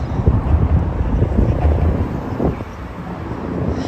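A helicopter passes overhead above a Brooklyn waterfront in New York City, a steady low rumble under city wind and traffic noise that holds throughout at moderate loudness.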